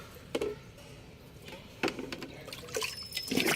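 Rice-washing water poured from a mug into a container of homemade liquid plant fertilizer with vegetable peels and beetroot, giving soft splashing pours in three bursts, close and fairly quiet.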